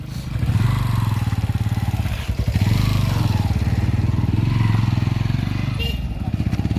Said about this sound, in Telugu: బైక్స్ కూడా పోతున్నాయి కొండ పైన వరకు పోతాయి బైక్స్